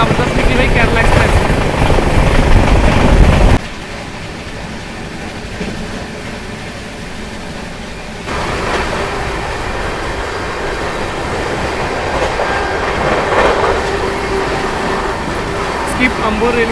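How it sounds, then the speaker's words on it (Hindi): The Kerala Express passing on a railway line in India, a loud rumbling roar that cuts off sharply, then a quieter steady rolling of wheels that swells again as more cars go by. "जबरदस्त निकली भाई केरला एक्सप्रेस।"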